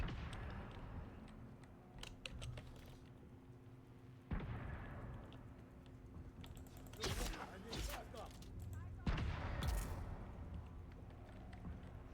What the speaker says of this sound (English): They're hitting me with a grenade and somehow still shooting me.